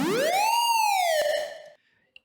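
Procedurally generated game sound effect with reverb applied, a loud rising-then-falling tonal chirp like a siren sweep that fades into a reverberant tail, followed by a tiny click.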